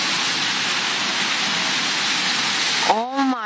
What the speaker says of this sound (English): oh my god, it is raining hard